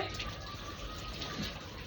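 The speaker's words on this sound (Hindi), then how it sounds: "अब मैं ये कपड़े पानी में से डिप करूंगी।" Washed clothes, including a small sari, are dipped in water, giving a steady close swishing and gushing of water with no talk.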